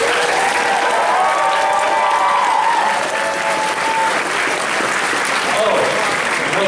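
At a comedy roast, a crowd applauds continuously, a loud, steady roar of clapping, with a faint voice calling out underneath.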